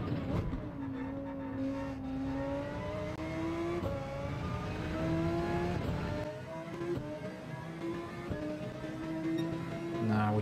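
Car engine in Gran Turismo 7 at a European circuit, steady revving tone with rising and falling pitch steps as gears change down to first, sustained and fairly quiet throughout.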